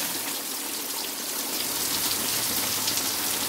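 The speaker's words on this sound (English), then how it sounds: "And of course, rain again today, Sunday." Rain falls steadily outdoors on a Sunday, a dense, even hiss of drops pattering on surfaces that stays constant throughout with no talking.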